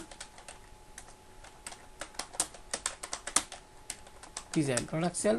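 Keys clatter on a computer keyboard in irregular bursts of close, crisp taps while a graphic design is being made on a computer, ending as a voice starts talking over the last second.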